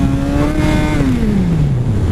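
Motorcycle engine held in first gear, loud and close, the pitch rising on the throttle and then sliding down as the rider lets off, a steady mechanical drone throughout.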